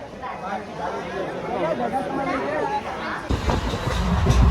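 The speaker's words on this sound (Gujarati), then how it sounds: "ટ્રેન હાલે અત્યારે આપણે ટ્રેનની અંદર બેઠા" Passengers chatter inside a moving train from Junagadh to Somnath, rumbling wheels and carriage noise growing louder toward the end.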